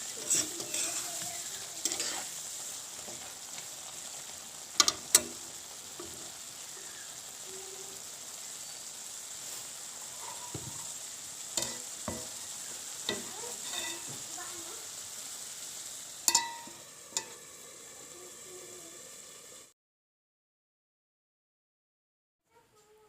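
Mutton curry cooking in a pan, a steady close sizzle under repeated scraping and stirring knocks of a spoon against the pan, ending abruptly in silence as a lid goes on.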